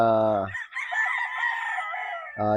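A gray, straight-combed gamefowl battle stag crows loudly at close range, a brief strained call with harmonic bursts at its start and end.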